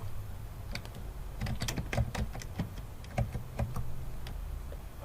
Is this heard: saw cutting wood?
no